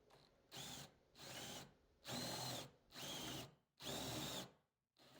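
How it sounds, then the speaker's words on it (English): A power drill whirs in five short bursts of about a second each, boring depth-controlled holes in a model railway layout for a turntable, separated by brief pauses, close and loud. "We added some tape to the drill bit to help us control the depth of each hole."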